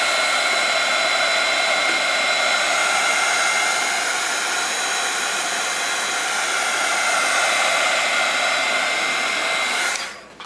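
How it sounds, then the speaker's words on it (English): A heat gun blows hot air in a steady, loud, close roar for about ten seconds near a plastic cover on a journal, then cuts off abruptly. "Hit it with the heat gun."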